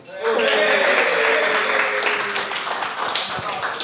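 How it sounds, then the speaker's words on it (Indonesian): A short burst of studio applause rises suddenly and holds loud and dense, then thins slightly toward the end, with some voices mixed in. "Tepuk tangannya dong."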